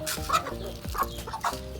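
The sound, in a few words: chickens clucking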